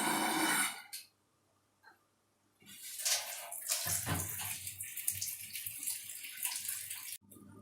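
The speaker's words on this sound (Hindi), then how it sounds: "और ये मैंने पानी भर लिया है और ये मैंने पानी और डाल दी।" Water splashes and gurgles as it is poured into a pot of rose petals for homemade rose water, with a short burst, a pause, then a longer, steadier pour, fairly close.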